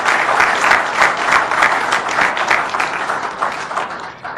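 An audience at a presidential press ceremony applauds loudly and steadily, a dense wash of clapping that pulses slightly before tapering off near the end.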